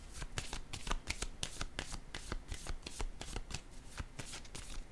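Tarot cards are shuffled and laid out close up during a Scorpio reading, with a rapid, steady run of papery riffles and soft slaps that continue throughout.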